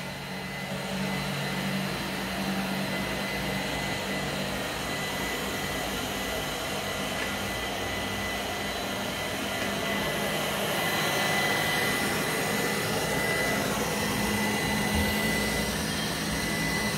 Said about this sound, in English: So the robo has collected all the dust and now I have started it on the path mode.